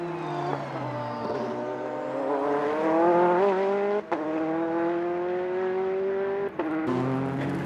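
Race cars at the 2002 Le Mans 24 Hours, with an Audi leading the field, roar past in a sustained, loud engine wail that rises and falls in pitch, broken by two brief drops.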